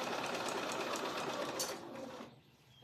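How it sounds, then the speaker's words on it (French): A sewing machine runs fast and steady, stitching a seam on a fabric bag. It buzzes close and continuous, then stops abruptly near the end, leaving quiet. "Vous faites un point avant-arrière pour sécuriser votre couture et vous décalez votre pied ou votre aiguille le temps de passer"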